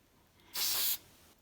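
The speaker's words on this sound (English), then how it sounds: "Okay, I'm gonna spray." A spray can of varnish hisses in a single steady burst of about half a second, sprayed onto an acrylic pour painting in a basement beside an open window, loud and close against a quiet room.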